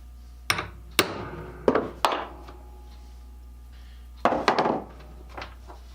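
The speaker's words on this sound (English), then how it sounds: "drive on the head of the rivet and set it" A hammer strikes several times to set a small rivet on a leather sheath for a scraper plane, with sharp close taps in two clusters and quiet pauses between.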